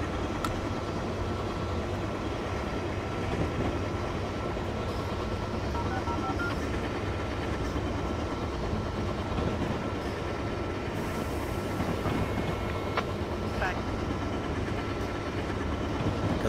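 An Amtrak AEM 7 electric locomotive brakes in Train Simulator 2019 between Philadelphia and Trenton, a continuous, even rumble of wheels and motors with faint squeals and clicks, steady for sixteen seconds without talk.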